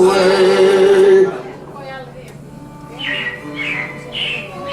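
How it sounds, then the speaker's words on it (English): Animatronic robins in the Carousel of Progress show at Magic Kingdom, a few short, bright chirps after a squawking call, moderately loud, with a low steady hum underneath. "it looks like the Robins are getting ready to celebrate Valentine's Day today"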